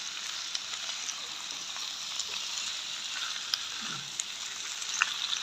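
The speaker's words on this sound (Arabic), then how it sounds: "البطاطس دي طبعا مش هتتحمر، هتتشوح بس بالزيت كده" Potatoes sauté in oil in a pan, giving a steady soft hiss of frying at moderate level with a few faint ticks and pops throughout.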